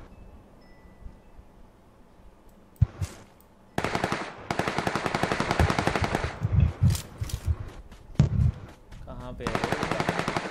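Rapid automatic gunfire in a PUBG Lite battle royale match: a few sharp shots, then sustained bursts of loud rifle fire in repeated volleys, with someone speaking briefly.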